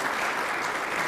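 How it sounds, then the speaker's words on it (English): Dense, steady applause from an audience thanking a panel at a public safe-streets meeting, filling the whole short moment without talk. "I'd like to give a round of applause to everybody else"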